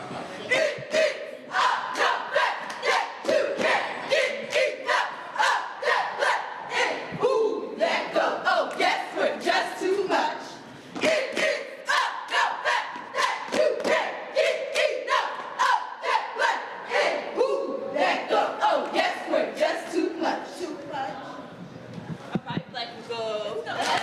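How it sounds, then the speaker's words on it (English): Bowie State cheerleaders perform a cheer routine, a group of voices shouting rhythmic chants in quick, punchy bursts with short breaks between phrases, loud and close, with crowd noise underneath. "the thing I definitely want to see, a Bowie State cheer routine"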